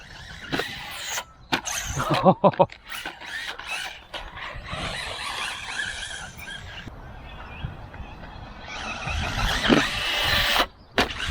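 HOSIM M13 MOXLIN 3S brushless RC short course truck launching off a ramp: bursts of motor whine and revving, clattering landings and chassis rattles, heard close with some background noise.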